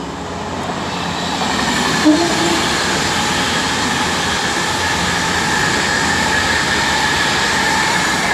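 A train on the West Coast Main Line running from London Euston to Birmingham New Street passes through Milton Keynes Central, a steady loud rolling rumble of wheels on rail with a faint brief knock partway through.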